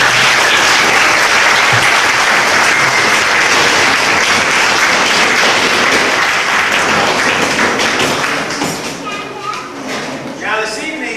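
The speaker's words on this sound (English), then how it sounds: "if you give everybody a big round of applause" An audience at a potluck evening gives loud, dense applause that runs for several seconds before thinning and tapering off, with voices and scattered children's sounds mixed in toward the end.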